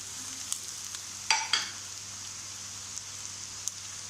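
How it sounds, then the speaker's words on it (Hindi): Tomatoes frying with onions and bitter gourd in a pan give a soft, steady sizzle, with a brief louder burst of spattering near the start and a few faint pops. "अब इनको थोड़ी देर फ्राई कर लेंगे, टमाटर जलने तक फ्राई करेंगे"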